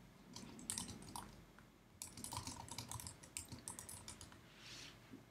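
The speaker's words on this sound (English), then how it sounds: "while I was typing that" Quick, light keystrokes on a computer keyboard, a fairly steady stream of soft clicks with brief pauses, faint and close in a quiet room.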